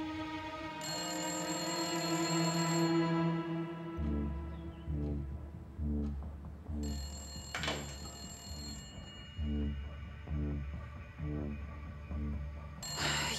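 A telephone rings with a repeating electronic bell tone, starting after a short stretch of sustained tones and then pulsing in regular rings, fairly clear and close, with little else around it.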